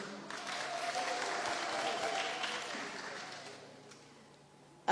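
An audience at a public gathering breaks into applause, a steady wash of clapping that holds for several seconds and fades out near the end, followed by a brief loud thump.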